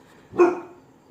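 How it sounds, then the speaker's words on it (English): A single sharp dog bark sounds indoors late at night, close and fairly loud, then fades quickly into quiet. "Excuse my dog."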